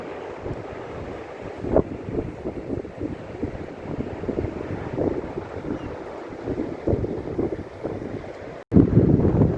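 Wind rushes and buffets the microphone continuously on a sunny south coast, with rumbling gusts and occasional louder thumps, no voices present.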